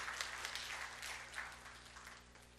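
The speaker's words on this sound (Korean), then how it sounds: "나오실 때 뜨거운 격려의 박수 부탁드릴게요." Faint church congregation applause of encouragement, a soft, even spread of clapping that rises and falls gently for a few seconds.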